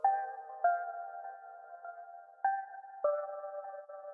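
A steady tonal synth line breaks up with abrupt level drops and warbling pitch wobbles, like a worn cassette tape with dropouts.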